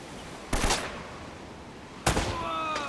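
Two sharp gunshots from the video game Uncharted: Drake's Fortune, about a second and a half apart, each a loud broadband crack with a short ringing tail over a quiet background.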